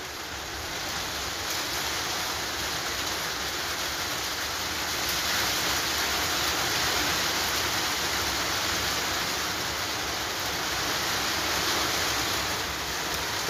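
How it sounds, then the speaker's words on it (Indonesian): Steady rain pours down outside, a dense even hiss that holds loud and unbroken throughout with no voices. "mohon maaf ya kalau berisik ya karena hujan ini"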